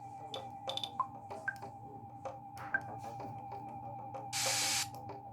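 The exterminator spray item from the video game EarthBound fires one loud, short hissing burst near the end, after a run of scattered electronic blips and ticks.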